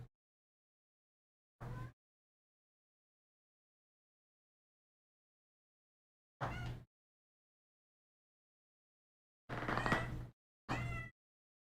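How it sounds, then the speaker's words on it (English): A cat meows indoors in four separate calls: one short meow, a pause, another, then two louder meows close together near the end, each clear against silence. "We've got a noisy cat in the room."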